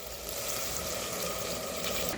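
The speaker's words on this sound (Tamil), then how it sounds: "இந்த கப்பில் இப்போது நான் நாலு தண்ணி ஊற்ற போகிறேன்" Water pouring steadily into a pot while making tomato rice, a continuous close splashing rush that stays even throughout, with no talking.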